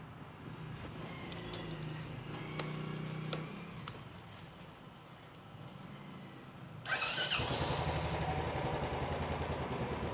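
A BS6 fuel-injected motorcycle engine, just back from a fuel pump repair, cranks and catches partway through, settling into a loud, steady close-up idle after quieter workshop clatter.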